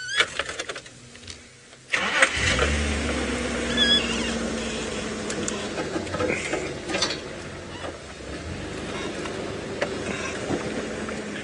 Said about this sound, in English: so I'm just going to move the car quickly.